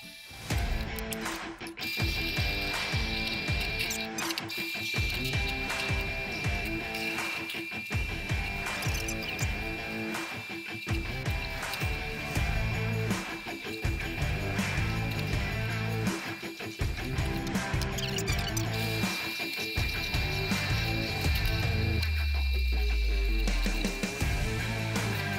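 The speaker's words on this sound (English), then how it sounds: "So that's as much as I can get with the drill press." A drill press works on a Fender Precision Bass during a rescue build, giving steady mechanical whirring and grinding with repeated pulses throughout, loud and close with no talk.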